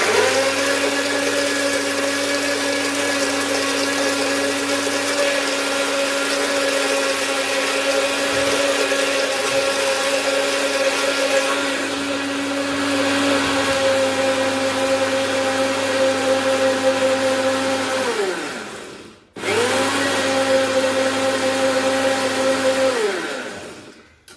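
An electric mixer whirs steadily while beating a cold chocolate dessert mixture, its motor hum loud and constant, pausing briefly near the end before starting up again; no voices.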